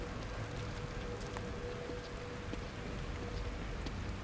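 Rain falls steadily in the horror video game The Evil Within, a constant soft hiss of drops with occasional faint ticks, even and continuous at low volume, with no voices.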